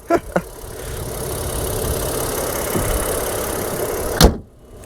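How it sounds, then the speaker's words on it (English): A 2026 Honda Passport Trailsport Elite engine runs as VTEC engages, a steady, fairly loud engine roar from inside the cabin, with a couple of sharp knocks at the start and a louder burst before it cuts off abruptly. "The VTEC just kicked in, yo."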